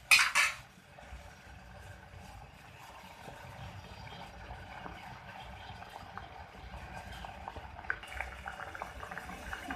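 Plums (aloo bukhara) simmering in a pot of water for a sweet-and-sour chutney, a soft steady bubbling after a brief clatter of a utensil against the pan at the start.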